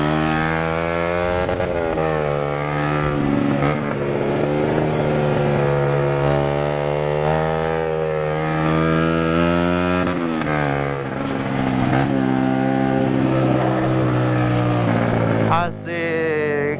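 A motorcycle fitted with a CLD Monster aftermarket exhaust engine-brakes while riding, a loud continuous droning burble with falling and shifting pitch, steady wind noise throughout and a brief thump near the end.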